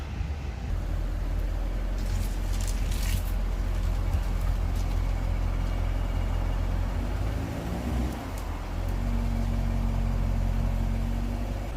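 A Chevrolet C7 Corvette rolls up onto race ramps with its engine running steadily and close by. The low mechanical drone holds throughout, with a brief dip and a shift in pitch partway through before it settles again.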